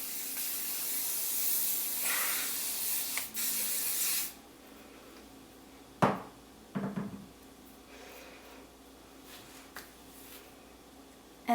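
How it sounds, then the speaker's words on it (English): Hairspray hisses steadily onto a big messy dread bun for about four seconds, close and fairly loud, followed by quiet with a few soft handling taps and rustles. "And then hairspray it."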